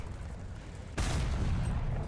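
A sudden heavy tank cannon blast in the video game War Thunder bursts in and leaves a loud, rumbling roar that stays up for over a second, following a quieter stretch of background noise.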